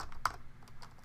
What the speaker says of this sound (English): if you start typing in